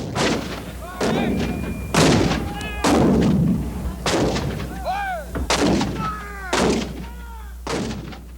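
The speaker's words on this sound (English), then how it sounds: "over 130 pieces of field artillery open up" Civil War field artillery, more than 130 cannon along Confederate lines, fires in heavy booming blasts about once a second, loud and close, with voices rising between the shots.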